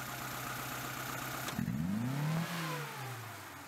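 Car engine under ignition-timing testing settles at a steady idle, then a sharp throttle snap sends the revs surging up and easing back down, loud and close with no talk.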